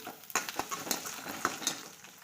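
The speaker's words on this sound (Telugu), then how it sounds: "ఎండుమిర్చి వేసి మంచిగా వేయించుకోవాలి దోరగా వేగేటట్టు వేయించుకోవాలి" Dried red chillies with coriander seeds, cumin, mustard seeds, urad dal, peanuts and garlic fry in hot oil, a soft sizzle broken by several sharp clinks and scrapes of a spoon against the pan, close and fairly quiet.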